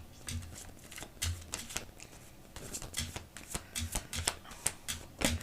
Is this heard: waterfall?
no